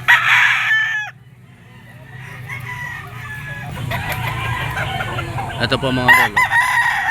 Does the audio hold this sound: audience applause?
no